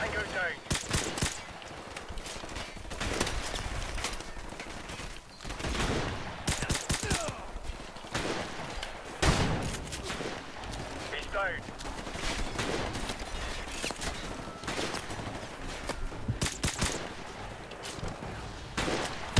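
Rapid bursts of gunfire in Call of Duty 4 Remastered, sharp repeated shots and volleys scattered across the clip, mixed with game effects and a voice talking over the action.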